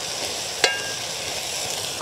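Crab masala gravy with chilli powder, coriander powder and garam masala bubbling and sizzling in a pan, a steady close frying hiss with one brief clink partway through.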